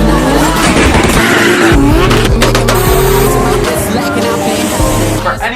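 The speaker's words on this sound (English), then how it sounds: "Stradman's next car, the Toyota Supra." A loud Toyota Supra sports car engine roars and revs close by, with tires squealing as it accelerates and shifts through gears.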